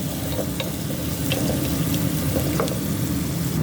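Onions sauté in a hot pan with a steady loud sizzle and occasional clicks of stirring, continuous and close, with no talk.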